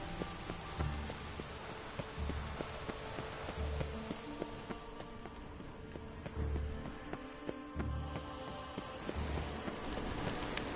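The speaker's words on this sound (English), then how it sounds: "Rain again." Steady rainfall in The Witcher 3: Wild Hunt, a continuous dense hiss of drops on the ground, with a horse's hooves clip-clopping at a regular pace in the foreground and no speech.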